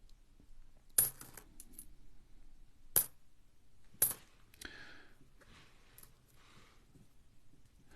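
Five-cent coins dropped into a bag in three sharp, jingling bursts about a second or two apart, close and clear against a quiet background, with faint shuffling rattles afterward.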